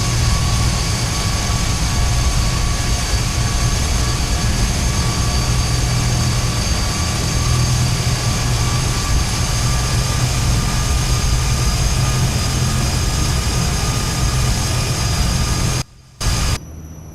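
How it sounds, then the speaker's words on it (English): Steady, loud jet engine whine and roar from an aircraft taxiing in a flight simulator game, continuous and even, cutting out abruptly near the end. "We'll just taxi the plane on forward."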